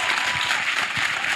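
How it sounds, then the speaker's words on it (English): A live audience in Sydney breaks into brief, dense applause for a guest. The clapping is close, busy and sustained with no gaps. "give a big round of applause for Sarah for being our guest for the first act here"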